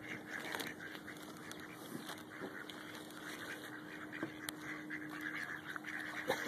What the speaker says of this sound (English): Look at the duck. Look there, look.